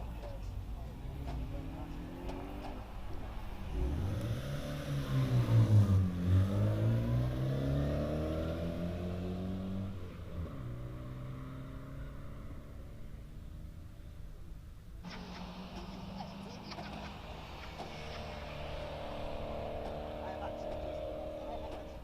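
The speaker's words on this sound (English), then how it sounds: "And number 96, Ellie Gale, little Mazda MX-5" Mazda MX-5 climbing the Prescott hillclimb course, its engine revving and swelling loud as it passes close midway before fading, with an announcer talking over the run.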